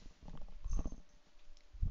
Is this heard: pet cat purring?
yes